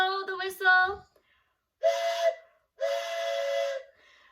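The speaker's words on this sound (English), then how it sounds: "help me blow the whistle" Two sustained toy train whistle blasts, each about a second long, sound close and clear during an early-childhood sing-along, right after a brief burst of voice.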